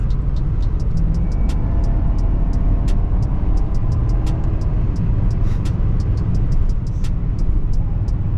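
A 2022 BMW 750i drives in sport mode at night. The engine and road noise make a loud, steady low rumble inside the cabin, with scattered faint ticking clicks.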